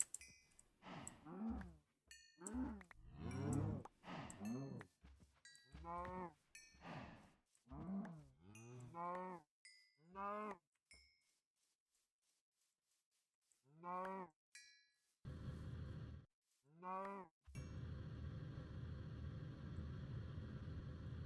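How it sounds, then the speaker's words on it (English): Cows moo repeatedly in the Minecraft FTB Continuum modpack, with many short lowing calls in quick succession followed by a pause, a few more moos, then a steady hum of background game noise. "Cows, dude. So many cows."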